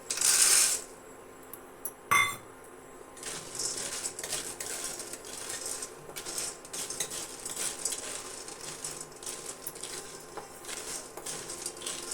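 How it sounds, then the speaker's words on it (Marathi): Soya chunks roast in oil in a kadai while being stirred, with a few sharp metallic clinks at the start and then a continuous light rattling scrape of the pieces against the metal. "हे आपल्याला कलर बदलेपर्यंत भाजून घ्यायचे आहेत"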